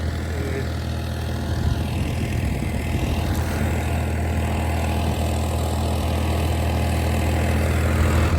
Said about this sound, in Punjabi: ਹੁਣ ਪੀਟੀਓ ਤੇ ਦੇਖੋ ਕਿੰਨਾ ਵਧੀਆ ਚੱਲਦਾ ਵਾ